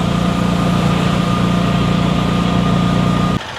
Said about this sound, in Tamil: சரி, ஆட்டோ பிடிச்சாச்சு.